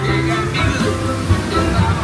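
Water splashes and rushes steadily on a theme park log flume ride, a continuous close wash of spray with a faint tonal hum in the background.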